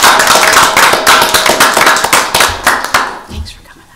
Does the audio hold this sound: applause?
yes